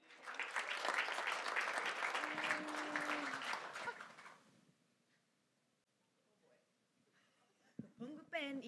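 An audience applauds with dense, loud clapping for about four seconds before it fades out, followed by a near silence and then a voice starting to sing.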